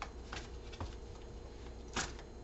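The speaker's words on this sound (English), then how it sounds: "I am going to shuffle and pick you an angel oracle card for this week" Angel oracle cards being shuffled by hand, giving soft papery riffles and a few brief flicks, with a sharper burst of cards near the end, quiet and close with no talk.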